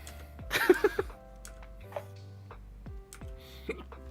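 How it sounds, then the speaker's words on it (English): A person hiccups several times, short sharp gulping catches close to the microphone, a cluster near the start and a few scattered later, with quiet ticking background between. "Get the hiccups after not eating."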